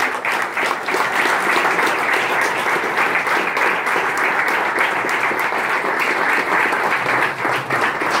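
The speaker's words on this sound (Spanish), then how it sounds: "Un fuerte aplauso para él." Steady, full applause from an audience at a Partido Justicialista talk in Argentina, sustained dense clapping throughout with no speech.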